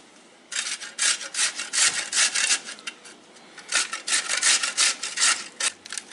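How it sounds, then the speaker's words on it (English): A cucumber is grated on a medium grater straight into a bowl for tzatziki, a close run of quick rhythmic rasping strokes in two bursts with a short pause between. "It's easier to clean up if you grate it right in the bowl"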